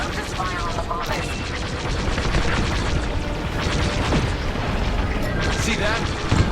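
Starfighter laser cannons in the video game Star Wars: Squadrons fire in a dense, continuous barrage. Booms and engine roar are layered over it, and voices talk faintly underneath.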